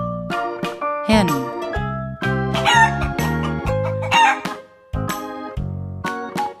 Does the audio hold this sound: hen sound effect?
yes